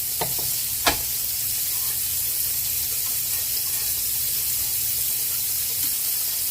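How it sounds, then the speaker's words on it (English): Butter melting and sizzling in a skillet, a steady close frying hiss throughout with a couple of brief clinks of the pan or utensil early on. "on a skillet, we're just going to melt some butter"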